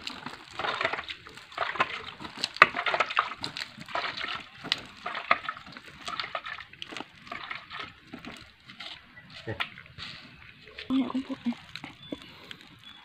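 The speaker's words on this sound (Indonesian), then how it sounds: "Oke, kita siram daunnya sampai bonsai." Water is splashed and sloshed onto the leaves of a pulutan bonsai in an outdoor garden, in irregular bursts with someone talking over it.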